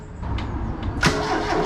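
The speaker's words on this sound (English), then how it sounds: "See if she'll turn over." A classic Ford car engine cranks briefly and catches, then settles into a running idle close by, with no talking.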